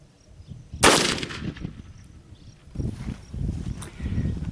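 A single sharp muzzleloader rifle shot fired from a shooting bench outdoors, loud and near, trailing into a short rumbling decay followed by faint shuffling and handling noises.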